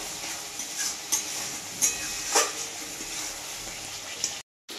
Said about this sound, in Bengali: এটা একটু ভালো করে ভাজবো